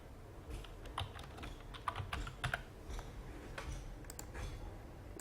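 Quiet keystrokes on a computer keyboard, a short run of soft irregular clicks typing a brief phrase, close but low in level, with no one speaking.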